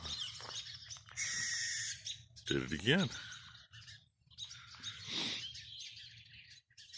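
Small birds chirp and squawk in sharp bursts outdoors at an owl, with one louder rising call midway; a person speaks briefly.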